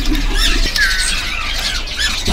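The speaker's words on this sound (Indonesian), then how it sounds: "Tuh, opior paru tebal." Thick-billed white-eye (opior paru tebal) calling at a bird market, a close squawking call with bright chirpy notes over a steady background hum.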